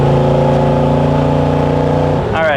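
A 1950 GMC 3100 pickup truck engine runs close and loud with a steady, smooth, even hum, then drops away abruptly near the end.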